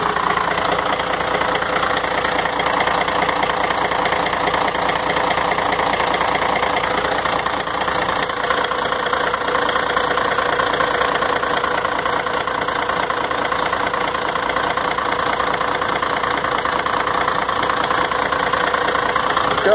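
A Volvo FH 12 truck with a tired, worn engine idles weakly without power, a steady unbroken rumble with a faint knocking texture, close and loud throughout with no talk.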